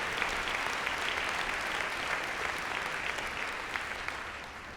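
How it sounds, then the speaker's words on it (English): A conference audience at a talk on organizational culture gives a sustained round of applause, even and fairly distant, with dense clapping and no talk over it. "Give them a round of applause"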